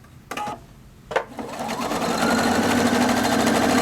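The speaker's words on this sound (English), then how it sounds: "it's going to finish the heart I was currently sewing on before it stops" A Viking Opal 670 sewing machine stitching a heart pattern: a couple of short starts, then a steady, fast, loud motor whir with rapid needle clatter, close up and without speech.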